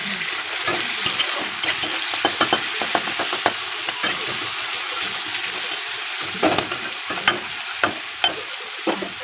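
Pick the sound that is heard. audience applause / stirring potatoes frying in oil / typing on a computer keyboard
stirring potatoes frying in oil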